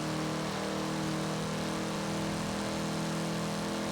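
The Mitsubishi Starion ESI-R engine in Forza Horizon 4 holds a steady, loud, humming drone with a constant pitch and no voices for about four seconds.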